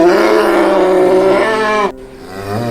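A struggling cow lets out a long, loud, rough moo close by, holding for nearly two seconds before a short break and a quieter grunting follow-up.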